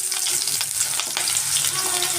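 Chopped onions frying in hot oil with mustard seeds and cumin, a loud, steady sizzle with crackling pops and brief stirring scrapes, heard up close with no talking.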